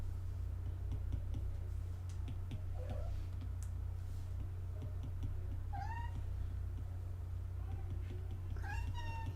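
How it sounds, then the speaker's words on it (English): A small cat meows a few times at close range, short rising calls standing out over a steady low hum, with a few light ticks between them. "don't mind my tiny cat."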